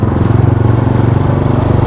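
A 2010 Yamaha Scorpio Z 225 motorcycle being ridden along a rough embankment road, its engine droning with a steady pulsing throb that runs loud and close throughout.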